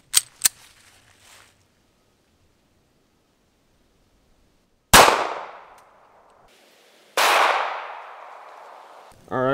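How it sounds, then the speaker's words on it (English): Sharp, loud pistol shots from a Sig Sauer P290 .380 fired at a police body armor vest outdoors: two quick cracks at the start, then two more single reports with trailing echoes, followed by a brief voice. "next we're going to shoot the .380 out of the Sig Sauer"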